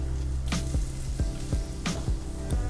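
Onions frying in a pot of rendered fat make a continuous close sizzle, with a few sharp clicks and scrapes from stirring and no talk over it.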